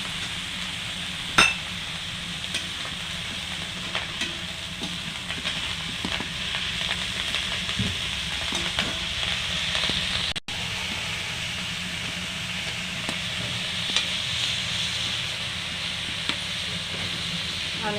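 Green chilies fry in a pan, a steady broadband sizzle with faint stirring scrapes running throughout and a brief dip partway through.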